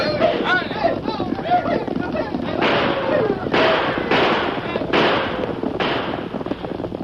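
Radio drama gunfire in the streets of Jericho: several sharp, loud shots crack in quick succession over wild shouting voices and background commotion, with the last bursts landing roughly a second apart.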